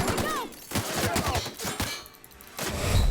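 Rapid gunfire rattles in the video game The Outer Worlds as a string of close, loud, punchy shots in quick bursts, broken by a short lull before firing resumes.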